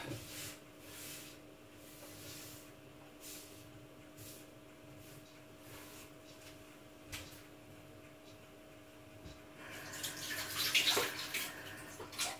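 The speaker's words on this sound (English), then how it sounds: "Quick wipe, quick wash of the hands." Running tap water during a quick hand wash in a home kitchen while cooking a vegetable bake, a steady low wash under background hum that swells louder near the end.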